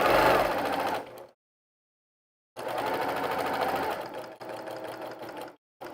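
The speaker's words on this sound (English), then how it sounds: "So let's go over to the sewing machine." A sewing machine stitching a quarter-inch quilt seam runs in three loud bursts of rapid even stitching, with a silent pause after the first and short gaps between the others, close up and without talk.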